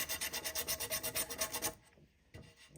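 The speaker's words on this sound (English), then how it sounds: "we're going to do some sanding. I'm going to use little pieces of 220 grit." Rapid, rhythmic rasping strokes of small pieces of 220-grit sandpaper rubbing on a carved wood wall picture, about a dozen quick passes, then stopping, followed by a couple of faint scrapes.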